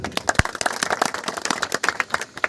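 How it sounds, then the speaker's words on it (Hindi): A crowd claps loudly and densely at a Dr. Bhimrao Ambedkar Jayanti celebration in Dhaurra, the applause thick and steady throughout. "एक बार जोरदार ताली"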